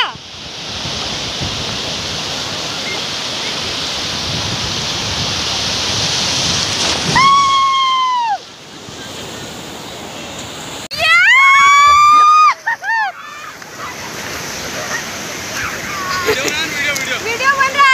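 Sea waves wash and splash onto a beach in a steady roar, with broadband surf noise filling the scene, broken by brief loud whistles and bursts, likely voices and playful shouts nearby.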